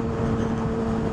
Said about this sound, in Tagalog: Yung tunog ng tambucho niya